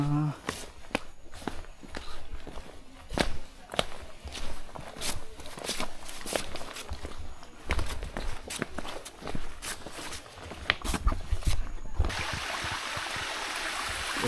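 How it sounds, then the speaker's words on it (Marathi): Footsteps wade through shallow water on the trail up Sudhagad Fort: a steady run of close splashing steps, with a running stream beneath and a voice talking over it. "हे असं सगळं पाण्यातून वगैरे चालावं लागतं"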